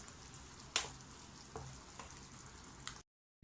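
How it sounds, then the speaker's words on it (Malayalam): Soya chunks stirred into masala in a pan make a soft frying sizzle, broken by a few sharp spoon scrapes and clinks, before sudden silence. "ഇനി നമ്മുടെ മസാലയും ഈ സോയാബീനും എല്ലാം കൂടെ നന്നായിട്ട് മിക്സ് ചെയ്യാണ് ചെയ്യുന്നത്."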